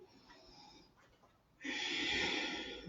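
Deep breaths during an advanced vinyasa yoga session, with a soft, airy exhale giving way to a loud, sustained, rushing breath that fills the second half.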